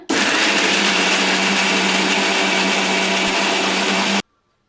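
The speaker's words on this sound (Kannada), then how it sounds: "ಇವಾಗ ನಾನು ಮಿಕ್ಸಿ ಆನ್ ಮಾಡ್ತಾ ಇದ್ದೀನಿ ರುಬ್ತಾ ಇದ್ದೀನಿ" A kitchen mixer grinder grinding masala with cinnamon and cloves, a loud, steady high-pitched whirring motor that runs for about four seconds and then cuts off abruptly.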